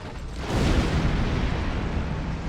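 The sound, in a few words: charges detonating in the video game Star Trek Online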